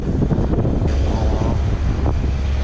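Strong wind buffeting the microphone aboard a sailboat cruising among Baja's Loreto Islands, a loud continuous rumbling roar with gusty fluctuations throughout.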